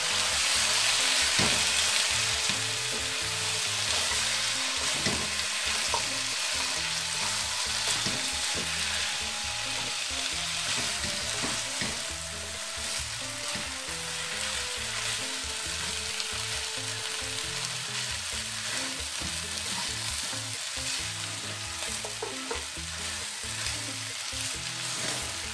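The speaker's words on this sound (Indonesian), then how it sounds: "Terus daging yang udah direbus tadi itu dimasukkan." Boiled goat meat for Medan goat curry sizzles and fries in a pan, a loud steady crackling hiss with occasional stirring clatter, continuous and close, without speech.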